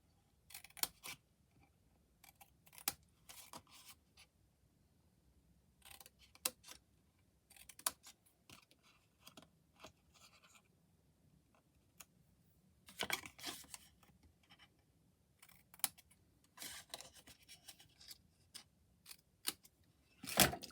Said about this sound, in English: you'll find it easier to cut again on the right hand side if you're right-handed